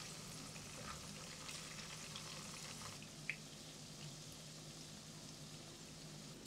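Burger patty frying in oil over medium heat, a faint, steady sizzling hiss with one small pop near the middle and no talking.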